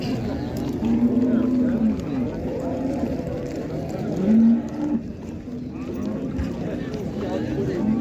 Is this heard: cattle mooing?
yes